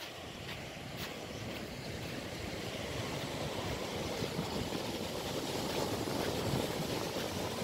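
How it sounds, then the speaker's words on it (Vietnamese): Big stormy sea waves pound the shore at Phu Lac beach in Phu Yen, a steady roaring surf with gusting wind buffeting the microphone, loud and continuous throughout. "biển này mình nhìn nó như cuồng phong mà ai tắm hả?"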